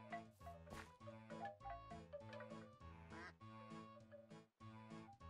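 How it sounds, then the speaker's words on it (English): Ducks quack repeatedly in a Minecraft multiplayer server game: a steady run of loud, buzzy, nasal quacks, closely spaced and mixed with game sounds, with no talking. "Literally, what is quacking?"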